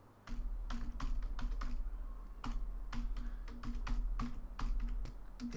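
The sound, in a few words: typing code on a computer keyboard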